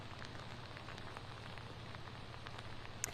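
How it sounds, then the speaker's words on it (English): Steady rain falls during Houston flooding, a continuous dense patter with scattered drop ticks over a low hum, faint and unbroken, with no voices. "It hasn't stopped raining, and more rain is expected to hit into the nightfall"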